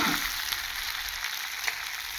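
Chicken pieces fry in oil with spices after long braising, once the oil has separated. A steady, moderately loud sizzle carries a few faint crackles and pops, with no talking.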